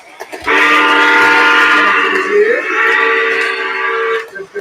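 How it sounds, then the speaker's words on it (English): Orange model trains running on a layout, with a loud, sustained horn blast lasting about four seconds that bends slightly in pitch partway through, then cuts off. "We got a couple of orange trains running around."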